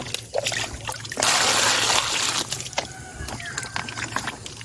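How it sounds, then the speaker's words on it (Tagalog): Makopa fruit and pineapple are washed in water outdoors near a farm: a burst of pouring and splashing, then drips, sloshing and handling clatter close by. "Hugasan natin dito."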